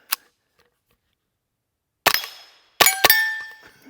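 GOAT-15 ultralight .22LR semiautomatic rifle firing its last rounds: four sharp, close cracks, one isolated shot followed after a pause by three more in an uneven cluster, each with a brief metallic ring, outdoors and without talk.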